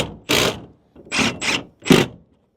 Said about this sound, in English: So I'll screw that on.